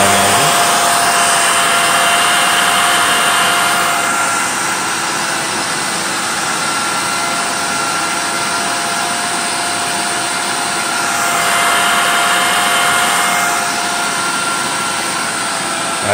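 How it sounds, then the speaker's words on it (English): Miele Callisto S5281 canister vacuum running at its diamond low-pile carpet setting, a loud steady whine and rush of airflow that swells slightly around the middle and end. "Let's go up to diamond carpet"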